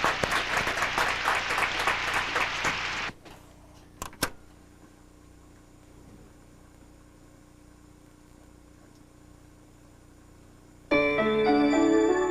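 An audience at a talk show claps for a reverend about to sing, with dense, lively applause for about three seconds before the room falls quiet; music starts near the end.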